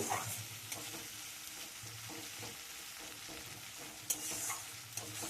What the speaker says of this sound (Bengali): তো আমি সব কিছু একসাথে ভালো করে একটু তেলের মধ্যে ভাজা ভাজা করে নেব।